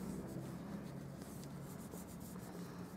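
Paper is rubbed by hand over a stamped wood grain image, giving a continuous soft scratchy friction that stays steady and close throughout, with no speech.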